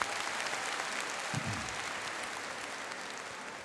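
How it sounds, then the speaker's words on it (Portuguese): Audience at a prayer gathering breaking into sustained, dense applause, with many hands clapping together at a steady level that fades slightly toward the end. "uma salva de palmas"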